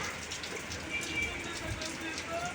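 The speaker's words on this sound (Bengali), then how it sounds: "কত বৃষ্টি বৃষ্টিই কমে না দেখো কত বৃষ্টি" Rain patters steadily on a surface, soft and continuous, with faint voices murmuring in the background.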